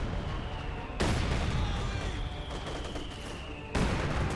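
Quad anti-aircraft gun in Company of Heroes 2 firing rapid bursts amid dense battlefield din, with loud sustained volleys opening around the one-second mark and again near the end.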